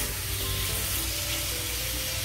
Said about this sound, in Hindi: चिकन इसमें हमारी फ्राई हो रही है।